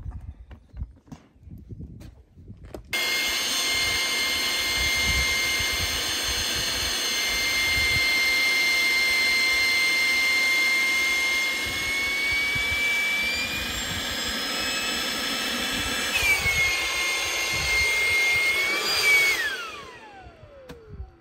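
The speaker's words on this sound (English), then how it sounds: "I'm gonna go ahead and let the air out." An electric pump deflates an inflatable SUV mattress, a steady loud whine starting abruptly and holding, rising in pitch near the end as the air runs out, then stopping.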